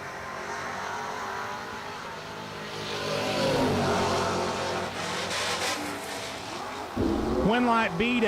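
Drag race cars, one of them a Camaro, roar loudly at a Six Shooter Showdown event and rise in pitch as they accelerate away from the line, while a race announcer talks over the engine noise.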